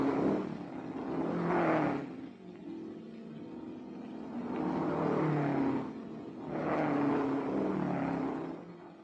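Vintage racing cars in the 1961 Tour de France Auto road race, engines swelling and fading in three successive passes, roaring loud then dropping away between each.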